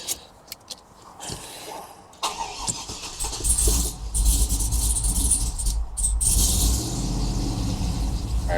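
An untuned Trailblazer SS engine, just rebuilt and installed, cranks with a few starter bursts, then catches and revs up loudly into a rough, uneven idle that holds to the end, with no talk.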